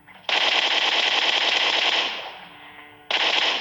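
Sustained automatic gunfire in PUBG at Pochinki, a loud continuous burst lasting about two seconds, tapering off, then another loud burst starting abruptly near the end.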